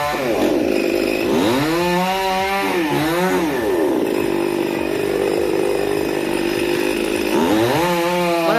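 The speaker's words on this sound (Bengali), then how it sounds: "এত বড় গাছ নিমেষের মধ্যে উড়িয়ে দিয়েছে এমন মেশিন বেরিয়েছে এখন" A chainsaw cuts down an old coconut tree, loud and close, its engine revving up and down in repeated surges as it bites into the trunk, with a steady rough roar throughout.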